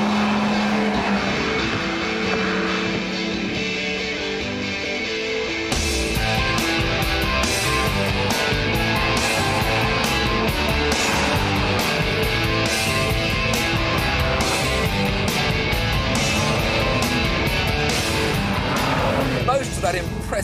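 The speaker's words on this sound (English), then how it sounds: "It produces 420 horsepower and will propel this 911 to 189 miles an hour, at which speed is surprisingly stable." A 1998 Porsche 911 with a 420-horsepower engine at high speed, a loud sustained engine roar with rising and falling pitch and wind rush that holds steady throughout, with someone talking over it.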